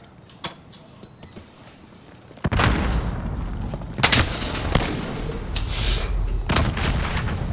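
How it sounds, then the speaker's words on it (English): Grenade explosions and gunfire in the Call of Duty video game: after a quiet start comes a sudden blast, followed by several sharp, loud booms and shots spread over a few seconds. "Throwing grenades!"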